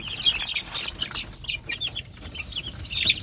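Young chicks cheep and peep in a busy chorus as they crowd around banana feed, many close high calls overlapping continuously.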